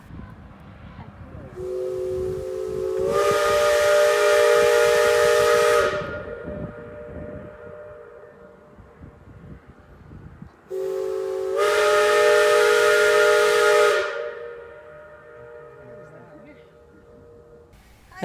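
A steam train at Echo Valley near Cripple Creek sounds two long, loud chord-like whistle blasts with a hissing rush of steam, each lasting several seconds and separated by a pause, with rumbling and voices in the background.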